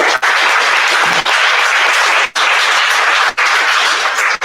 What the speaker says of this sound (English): Andrew, Adrian, a round of applause.